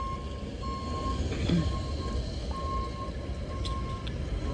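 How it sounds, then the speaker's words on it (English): A concrete truck backs up in a parking lot, its reversing alarm beeping in steady, evenly spaced tones over a constant low engine rumble and outdoor background noise. "Concrete truck backing up, you may see it."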